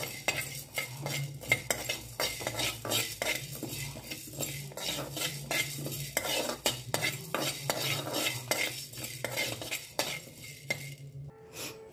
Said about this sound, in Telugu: అన్నీ వేసుకొని వేయించుకుందామండి. దోరగా వేయించుకోవాలి